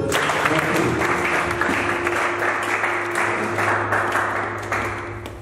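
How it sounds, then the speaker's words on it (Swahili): A church congregation applauds after a sermon at a youth morning service, sustained clapping from a crowd over a low background hum, fading slightly toward the end. "Situongeze makofi tena."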